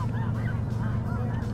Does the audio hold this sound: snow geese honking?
yes